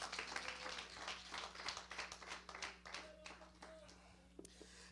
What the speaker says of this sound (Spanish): Denle fuerte palmas al Rey de Reyes y Señor de Señores.